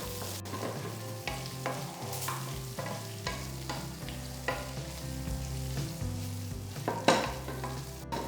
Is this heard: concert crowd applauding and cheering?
no